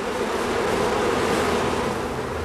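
Honeybees fanning at a hive near white clover, a steady, dense wing-beat hum that holds level and close throughout with no pauses.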